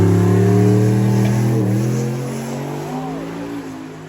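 A drag race car with a bigger engine fitted revving hard, loud layered harmonic roar close by that sweeps and then eases lower as the revs drop.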